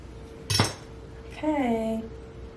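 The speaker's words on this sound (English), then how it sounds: "Actually, I don't want to use that knife. I'll use this one." A knife and cutlery clink briefly against a dish in a kitchen while an avocado is being cut, a single sharp metallic chink followed by a short ringing scrape, with a voice speaking nearby.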